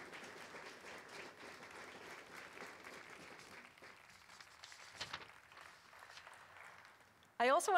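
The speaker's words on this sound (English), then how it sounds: "but let's applaud them again." Audience applause for the teams at the CBC/Radio-Canada Hackathon 2019, a fairly soft, even wash of clapping from a seated crowd that thins out before a close voice begins speaking.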